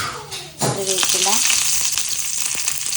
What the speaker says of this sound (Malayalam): ചെറിയ ഉള്ളി, വറ്റൽമുളക് ഇട്ട് കൊടുക്കാം കേട്ടോ.